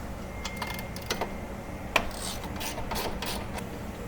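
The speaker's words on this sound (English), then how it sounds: "loosening the outer tie rod nut right here" A hand ratchet loosens the outer tie rod nut on a Polaris Xpedition, producing a few scattered close mechanical clicks and one sharper snap in the middle, against a low steady background hum.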